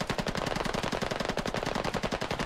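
Sustained automatic gunfire in the military shooter game Squad, a rapid, steady rattle of shots filling the whole stretch, loud and close with no talking over it.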